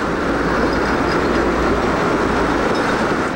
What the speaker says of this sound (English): There's the westbound Branchville passenger train at Newton.